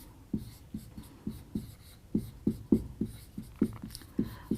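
Chalk or marker strokes on a classroom board, a dozen or so short scratchy taps in an uneven rhythm, close and clear with no talk over them.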